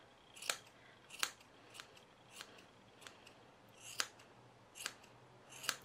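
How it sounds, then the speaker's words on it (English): Scissors snip around a yarn pompom being trimmed into a pumpkin shape, about eight sharp, quiet cuts at a steady uneven pace, close up with no talking. "I actually find trimming these really satisfying."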